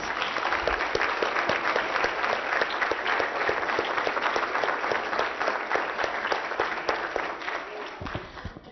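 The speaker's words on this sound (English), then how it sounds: "Let's give the governor one more round of applause, please." A crowd at a celebration applauds a governor steadily for several seconds, dense clapping filling the room before trailing off at the end.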